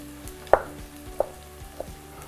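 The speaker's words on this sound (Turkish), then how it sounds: "Domateslerimi doğramaya devam ediyorum." A knife chops tomatoes on a kitchen board, giving three sharp, separate cuts spaced evenly apart, close and fairly quiet over a soft low background hum.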